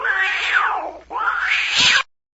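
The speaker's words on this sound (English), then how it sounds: "So here's the alley cat." Two drawn-out alley cat meows, the first rising then falling, the second sliding upward and ending in a rough, strained yowl, close and loud, stopping abruptly.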